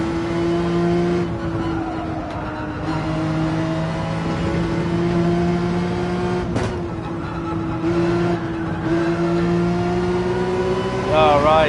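A GT3 race car in Gran Turismo 7 at Trial Mountain holds a steady high engine drone that dips and climbs as the throttle is worked, ending in a sharp rising rev, with someone talking over it.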